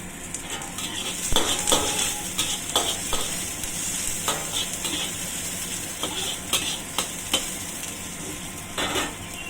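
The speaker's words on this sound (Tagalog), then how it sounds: "ginger, saka bawang, lahat na. Ayan. Sabay-sabay na yan. Ayan, gisa lang natin to." Ginger and garlic sauté together in a pan for squid adobo, a steady close sizzle with frequent sharp scrapes and clinks of a spatula stirring, and no talk.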